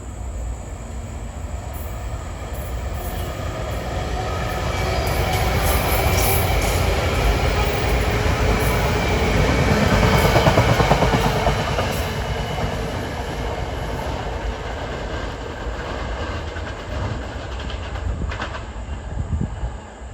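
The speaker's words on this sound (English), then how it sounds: "This is train 3541 bound from Malvern." A SEPTA Silverliner IV electric commuter train passes on the line near Overbrook, Philadelphia, a steady loud rumble of wheels and motors that swells toward the middle and eases off, with faint squealing, no voices.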